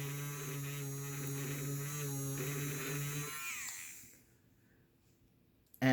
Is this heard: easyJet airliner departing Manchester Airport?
no